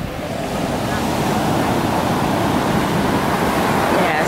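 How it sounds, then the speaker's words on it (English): Strong ocean waves surge and wash over a rocky beach of dark sand on the Amalfi Coast, a loud, continuous roar of surf with steady wind noise across the microphone. "the waves are pretty strong, it looks"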